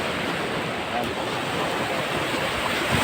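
Ocean waves wash along a beach shore in a steady, loud rush of surf with wind noise on the microphone, continuous for the whole moment without distinct breaks.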